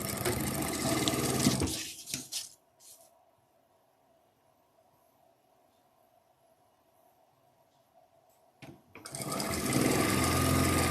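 Sewing machine stitching a quilt: a steady, loud mechanical whir for about two seconds, then a quiet pause with faint hum, before the motor runs again at full speed near the end.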